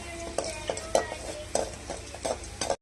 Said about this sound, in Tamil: பொடியாக கட் பண்ண 2 பல்லு பூண்டு, ஒரு துண்டு சின்னதாக கட் பண்ண ஒரு துண்டு இஞ்சி பூண்டு நல்லா வதங்கட்டுங்க.